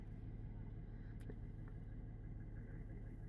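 Big truck with a cherry picker idling during roadside tree work, a steady low engine rumble heard from nearby and continuing unbroken.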